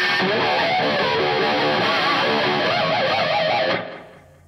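A heavy riff on a distorted electric guitar, loud and dense with sustained notes and wide vibrato, played alone before cutting off and ringing out near the end.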